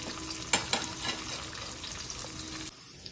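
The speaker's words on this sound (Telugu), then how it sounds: "ఒక 2 నిమిషాలు వేగనివ్వాలి" Tempering of mustard seeds, cumin, garlic, curry leaves and onion sizzling in hot oil for ridge gourd dal, a steady close frying hiss with a few spoon knocks early on, then dropping quieter near the end.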